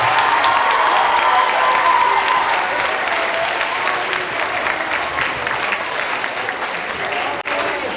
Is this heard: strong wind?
no